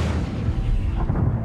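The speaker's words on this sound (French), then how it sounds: "On n'entendait le 88 qu'au moment du tir et de l'explosion de l'obus, qui était très rapproché" A German 88 mm gun firing with its shell exploding very close by, heard as a dense, continuous low rumbling roar of blasts with no clear gaps, loud and unbroken across the whole span.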